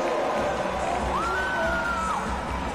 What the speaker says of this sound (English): And listen to this Butler crowd